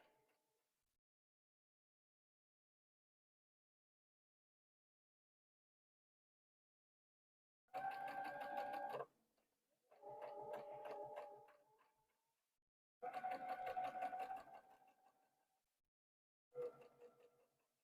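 A sewing machine stitches around a fabric circle for a Dresden block with a quarter-inch seam, sewing slowly. Four separate bursts of rapid mechanical whirring, each a second or two long, follow a long silence and sound close.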